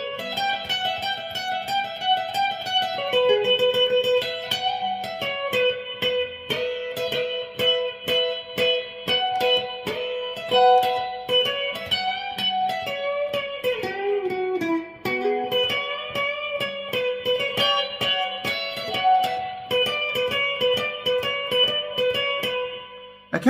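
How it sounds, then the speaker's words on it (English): An electric guitar plays a fast solo, quick picked notes and bends, steady and prominent throughout, with no voices. "here's the first guitar solo you're going to come to, and it's going to sound like this"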